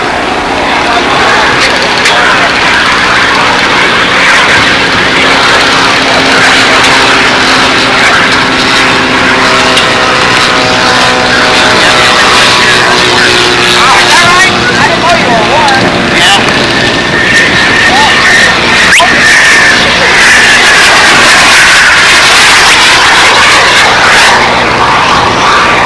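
Radio-controlled scale model airplane in flight at a windy national scale contest, a steady buzzing propeller engine drone holding at moderate distance under continuous wind noise, with someone narrating over it.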